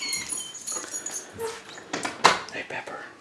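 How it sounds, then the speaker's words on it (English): A pet dog named Pepper whimpers and yips while greeting someone coming in through the door of a house, with short high whines mixed with jangling keys, door handling and nearby movement. "I get greeted by the dog."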